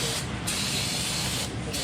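Cleaner sprayed onto oily Subaru WRX parts during spark plug and shift bushing work, a steady close hiss running without a break for about two seconds.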